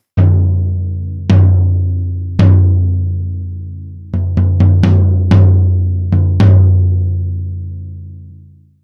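A tom drum miked with an Audix microphone is struck repeatedly, first in slow single hits and then a quicker cluster, each loud, close stroke ringing out with long booming sustain before fading to silence.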